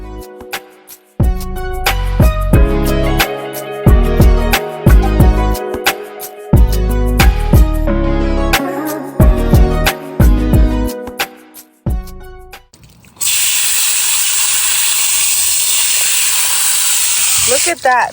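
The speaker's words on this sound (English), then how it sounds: "I'm just gonna hose it down" A garden hose sprays water in a steady, loud hissing rush over a horse's dirty mane during a bath, following a stretch of plucked musical notes.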